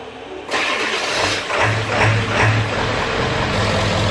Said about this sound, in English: we're gonna start her up and let her idle for 15 minutes